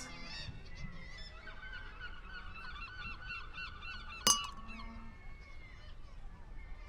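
Seagulls call loudly and repeatedly in a steady overlapping chorus with a brief sharp knock near the end, and faint voices sit in the background.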